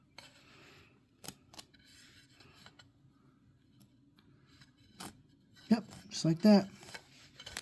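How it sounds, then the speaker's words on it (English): Scissors cut a small square into a flannel patch, making several crisp, close snips spread across the clip, with a short spoken remark near the end. "So just kind of cut a little square shape into her"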